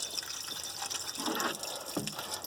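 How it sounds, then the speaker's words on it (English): Coolant water pours out of the water pump opening on a 1968 Buick Electra 225 barn find, a steady splashing trickle with a brief gush midway, heard up close with no talking. "it is just pouring out the water pump side"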